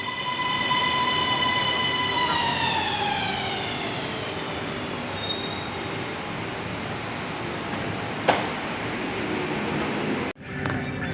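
A Bangkok MRT Blue Line metro train pulls into a station with a loud steady rumble, high whining tones that fall as it slows, and a brief squeal near the end.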